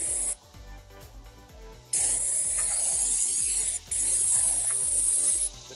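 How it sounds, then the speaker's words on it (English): An airless sprayer with a large 1223 tip sprays fence stain in long loud hissing bursts, stopping briefly and starting again, close up under a low rumbling pump. "with this 1223, it's a big orifice, so I'm putting on a lot."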